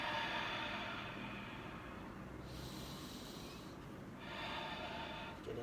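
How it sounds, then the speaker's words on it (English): Steady nasal inhalations during a stretching routine on an active recovery day, soft airy breaths close by, a long draw easing off around the middle and a second breath swelling near the end. "And I'm breathing in through the nose,"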